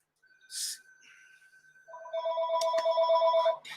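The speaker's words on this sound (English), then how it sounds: "Call from wireless caller." An electronic telephone rings with a synthesized warbling tone, announcing a call from a wireless caller; a higher chirp comes first, then a louder sustained trill of repeated pulses, fairly close and clear.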